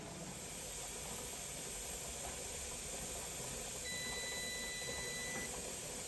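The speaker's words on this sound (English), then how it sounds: "It's been steaming like that for 10 minutes." A pressure canner full of turkey broth vents steam on the stove before its weight goes on, giving a continuous, even hiss that stays steady and close throughout with no talking.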